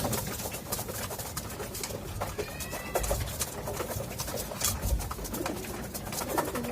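Soft, repeated pigeon coos over a constant hiss of background noise, with no one speaking.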